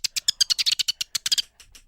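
A person imitates a finch call with a quick run of about a dozen high, sharp chirps, loud and close, trailing off into a few fainter ones at the end.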